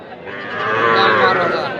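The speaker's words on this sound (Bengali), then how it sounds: "দর্শক দেখতেছেন যে সব দিকে কিন্তু ছোট ছোট বাছুর" A calf at a cattle market in Aftabganj lets out a single loud, drawn-out moo that swells and holds close by.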